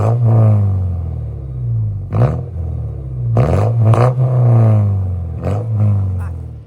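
A 2.4 liter truck engine with an aftermarket Flow FX muffler and five-speed manual, simulated in BeamNG.drive, revs and rumbles through several gear shifts, loud and close with brief throttle lifts between pulls.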